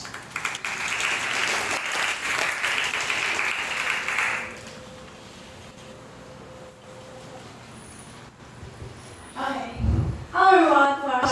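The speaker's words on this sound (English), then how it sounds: "Please give them a big round of applause." Audience applause for a few seconds that fades out, followed by quiet room noise, then a voice begins speaking into a microphone.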